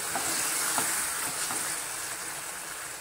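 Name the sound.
coconut milk simmering in a pan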